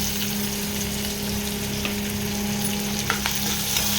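Finely chopped garlic fries with onion in a pan, a loud, even sizzle with a faint steady hum beneath and an occasional light stirring tick, close up and without voices.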